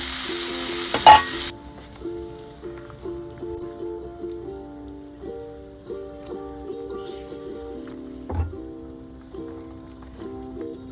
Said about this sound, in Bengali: দেখুন জল দিয়েছি, ফুটছে